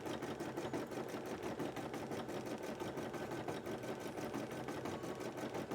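An embroidery machine stitching a large cosplay design runs at a fast, even, continuous rhythm of needle strokes, a steady mechanical chatter that holds unchanged at close range.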